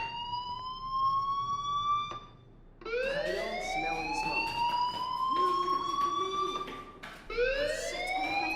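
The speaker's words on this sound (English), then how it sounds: "Hey, do you hear that fire alarm?" A school fire alarm in the game Life is Strange wails in repeated rising electronic sweeps, three bursts broken by short gaps, loud and close with no voices.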